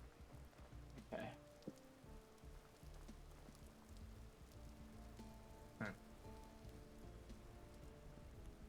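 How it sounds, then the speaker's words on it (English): Rain falls in the Vintage Story video game as a quiet, continuous patter. Two brief brighter sounds rise above it. "Sounds like it's raining, but I don't actually see any rain."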